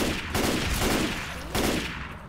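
Gunfire in the video game Left 4 Dead 2, a few quick bursts of rapid shots in close succession, fairly faint.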